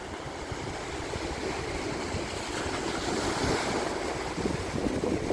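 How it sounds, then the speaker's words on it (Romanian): Ocean waves breaking on a shore during a New Year's celebration in Romania, a loud, continuous rushing wash of surf with heavy wind noise buffeting the microphone. "Ce frumos se spar valurile!"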